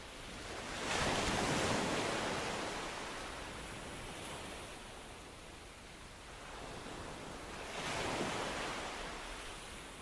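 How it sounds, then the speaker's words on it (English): Ocean waves curling onto a sandy beach and spreading foam, heard as two broad swells of rushing surf rising and falling over a continuous wash, with no voices. "Listen to the timeless curl of the waves as they spread a lacework of foam on the sand."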